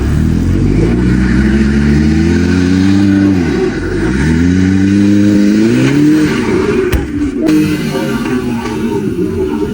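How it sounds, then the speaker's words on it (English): An older-generation Audi TT RS engine revs hard and loud on a steep mountain climb, rising and falling in pitch as it climbs, with a dip and surge midway through. "An older generation Audi TT RS steps up to the steep mountain climb challenge"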